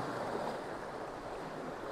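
Steady, continuous wash of sea water surging in and out over rocks, a soft broadband roar with no distinct breaks and no voices.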